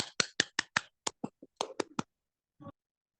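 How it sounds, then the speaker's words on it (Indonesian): Short round of classroom applause for a classmate, a handful of sharp separate claps in quick succession that thin out and stop, quiet and alone with no talk. "Kita berikan aplaus kepada teman kita Cici."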